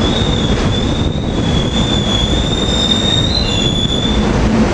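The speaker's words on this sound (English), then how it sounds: "We got the train to the airport, train 447 from Warminster" Commuter train 447 from Warminster rolls past with its rail cars, a loud, close rumble of wheels on track with a sustained high metallic wheel squeal running across the pass.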